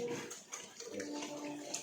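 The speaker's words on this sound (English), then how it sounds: "It stirs them all up and you get a feeding frenzy going." Pigs in a pen worked up into a feeding frenzy, a dense muddle of grunts, squeals and snuffling close by, with a voice speaking over the commotion.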